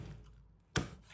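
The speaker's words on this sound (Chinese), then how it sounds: "再将其剁成小块" A knife chops steamed chicken into small pieces, one sharp, close thud on the board after a brief quiet stretch.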